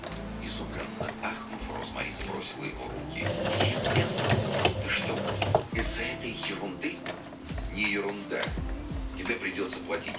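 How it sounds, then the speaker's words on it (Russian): A sewing machine stitches fabric handbag pieces together (top panel, side panels and main parts), whirring in rapid mechanical bursts with brief pauses, close up, while someone talks over it. "Для этого мы берем верхнюю часть, боковушки и основные детали, и все это сшиваем."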